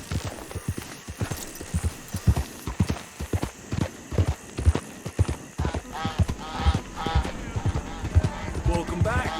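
Horse hooves pounding in Red Dead Redemption 2, a repeated close clip-clop gallop with uneven rhythm and occasional snorts, with a voice speaking briefly.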